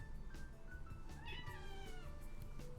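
A house cat meows loudly in drawn-out, rising and falling cries over steady low background sound, close and clear.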